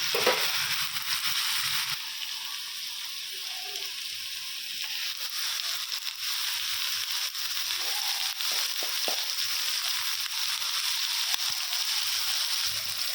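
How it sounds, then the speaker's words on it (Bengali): Eggplant frying lightly in a pan gives a steady, soft sizzle that continues close by with no talk, and faint clinks come through now and then. "হালকা ভাজা হোক, তারপর ডিমার শাকটা দেবো।"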